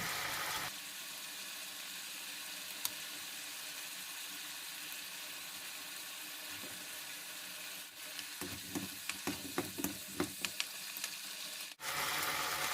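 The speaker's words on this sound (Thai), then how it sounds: "แล้วค่อยมาใส่เส้น แล้วก็ ผักกาดขาวแล้วผัดทุกอย่างให้เข้ากันอีกทีค่ะ" Instant noodles stir-fried with shrimp and napa cabbage hiss in a hot pan, a loud continuous sizzle joined later by a run of quick scraping and tossing clatters, close up with no talk.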